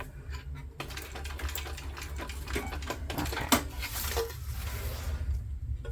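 Sewing machine backstitching across the zipper-tape end of a fabric pouch: a steady, close mechanical needle chatter running the whole time, with brief pauses and a small knock midway as the stitch reverses.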